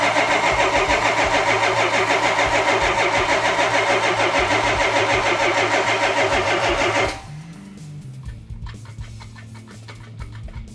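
Yamahauler engine cranking, then catching and running loud and steady with a dense rumble for about seven seconds before cutting out abruptly, leaving quieter clicks and mechanical rattles.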